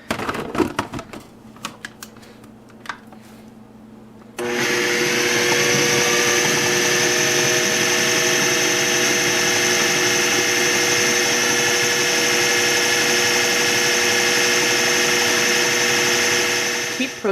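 After a few seconds of scattered clicks and knocks, a food processor starts up and runs steadily and loudly, whirring as it grinds a vegan patty mixture into a paste.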